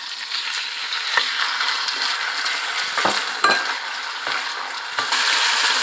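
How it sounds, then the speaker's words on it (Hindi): Chicken frying in hot cooking oil, a loud continuous sizzle with occasional clinks and scrapes of a utensil against the pan, heard up close without talk. "तेल गर्म हो चुका है, अब मैं इसमें चिकन डाल के फ्राई करती हूँ।"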